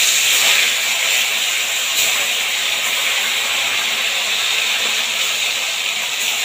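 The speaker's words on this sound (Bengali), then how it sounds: "এবার আমি একে একে অল্প অল্প 4-5টা করে মাছ দিয়ে দিয়ে ভেজে তুলে নেব।" Ganges phasa fish, four or five at a time, fry in hot oil with a loud, continuous, even hiss and crackle that stays close and steady throughout, with no voices.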